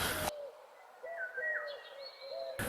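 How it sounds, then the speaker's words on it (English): A swamp hen calling at Sandstone Lake, thin wavering and sliding tones rising and falling over a quiet open-air background, fairly faint and distant, framed by brief bursts of louder noise at the start and end. "You can hear that's actually a swamp hen calling here."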